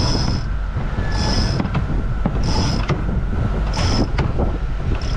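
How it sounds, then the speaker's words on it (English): Sailboat winch ratcheting in rope while sailing a big boat solo, repeated rhythmic clicking and creaking bursts in a steady pattern over constant wind noise, close by. "It's not a great idea to pull rope through a winch like that."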